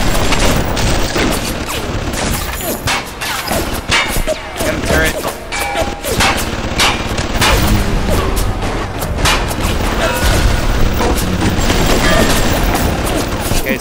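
Continuous gunfire in the shooter Bioshock, dense bursts of shots and crashing impacts filling the whole stretch, loud and chaotic with voices mixed in.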